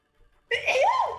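A single sharp sneeze bursts out close to the mic during a tabletop Dungeons & Dragons game session, loud and abrupt after near silence, lasting about a second.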